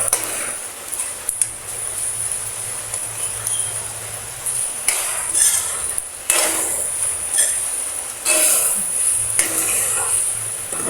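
Pork adobo with potatoes fries in its own rendered fat, giving a steady close sizzle and hiss with scattered scraping stir strokes and pan knocks throughout.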